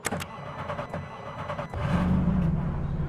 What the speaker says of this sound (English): This car's got a very low grumble to its exhaust.